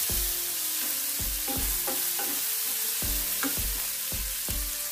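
Onions fry in a hot pan for tandoori paneer tikka masala, with a steady loud sizzle broken by regular scraping stirs, close up with no talking.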